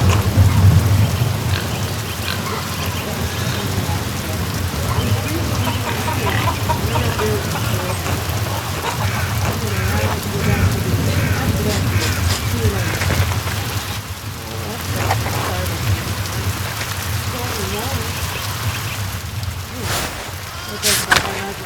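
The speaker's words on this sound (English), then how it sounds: "Rain falls on the abbey and rolls down the hill" Steady rain pours over an abbey in the video game Pentiment, with a constant dense hiss and low rumbling thunder running throughout at a loud, even level.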